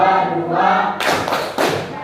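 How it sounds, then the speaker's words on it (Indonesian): A standing class performs the Pancasila clapping chant, voices chanting together before two sharp, loud bursts of unison clapping. "tepuk Pancasila dulu. Berdiri semua. Tepuk Pancasila."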